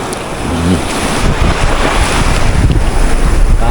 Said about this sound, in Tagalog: ang laki ng alon mga kauno